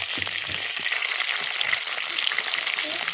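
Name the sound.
fish frying in oil in a pan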